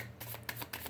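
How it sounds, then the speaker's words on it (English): A deck of cards is shuffled in quick riffling bursts, close and crisp, with a few distinct flurries and no talking. "I've never done that many shuffles"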